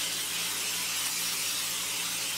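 A steady, close hiss of non-stick butter cooking spray runs continuously for a couple of seconds with no pauses.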